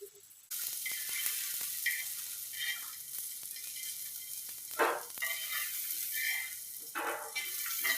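Onion, garlic and ginger fry in a little oil, giving a steady close sizzle with occasional stirring scrapes and brief louder spits.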